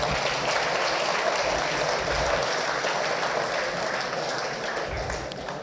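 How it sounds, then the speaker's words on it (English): An audience gives a steady round of applause, a dense even wash of many hands clapping at moderate distance, holding level and easing slightly toward the end. "another round of applause"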